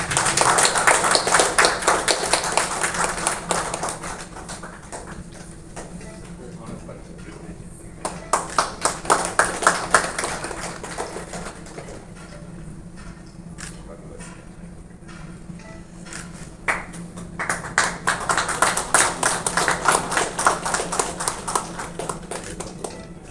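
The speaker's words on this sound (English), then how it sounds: "Can you all please give a big round of applause?" An audience at a hospital ceremony applauds the chief guest in several waves of dense, brisk clapping that swell, ease off, then return strongly near the end.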